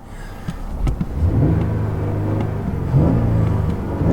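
A 2013-era Cadillac XTS with over 200,000 miles sits idling in park, its engine giving a low, steady rumble close by, with a few small clicks early on and no voices.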